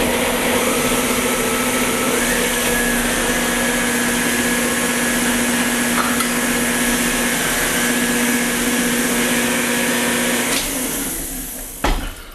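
An electric mixer whirs steadily and loudly through oatmeal chocolate chip cookie dough, a constant motor drone that winds down and cuts off near the end with a brief clatter.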